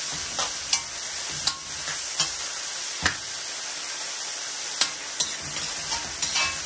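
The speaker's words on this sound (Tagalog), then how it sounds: "At saka kunting soya sauce. Haluin lang natin ng haluin." Pancit miki noodles are stirred with soy sauce in a pan, a constant close sizzle punctuated by regular scraping clacks of the utensil against the pan, with no talk.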